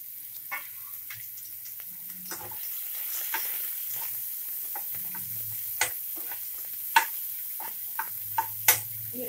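Two finely chopped medium onions fry in a pan for a peas and potato kurma, giving a steady quiet sizzle with a few sharper pops and stirring clicks, close and without talk.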